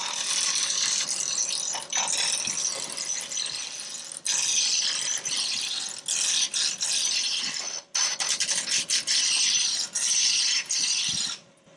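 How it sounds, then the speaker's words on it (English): A roughing gouge takes a bowl blank down to round on a wood lathe, giving a continuous loud rattling, chattering scrape with brief pauses where the tool lifts from the spinning wood. "take this down to round. You can do that with a roughing gouge"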